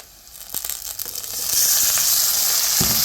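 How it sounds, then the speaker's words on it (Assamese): Pork pieces, boiled beforehand, hit a pan of already-frying onions and break into a loud, steady sizzle that swells and holds, with scattered crackles and stirring scrapes close by. "এতিয়া মই ইয়াতে মাংসখিনি দিওঁ। মাংসখিনি দি পিনে ভাজোঁ।"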